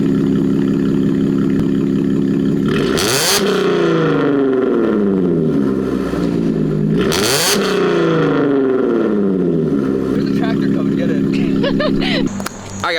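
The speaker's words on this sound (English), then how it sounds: "Valves open. You'll be able to hear them open too." Audi Q7 SUV revving with its exhaust valves open, two sharp loud blips that rise and fall over a steady close idle, then back to idling.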